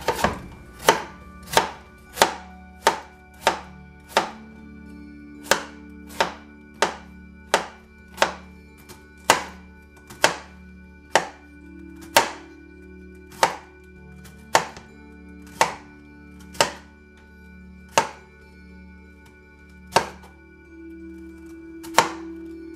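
Cabbage being chopped finely for sauerkraut, a long run of evenly spaced, crisp knife thwacks on a board, close and loud, about one strike per second with a faint low hum underneath.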